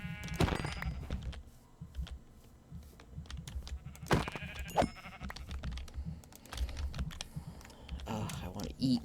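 Sheep in Minecraft let out a few short bleats, heard amid the busy clatter of computer keyboard typing and game noise.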